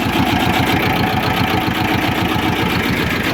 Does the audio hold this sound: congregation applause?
no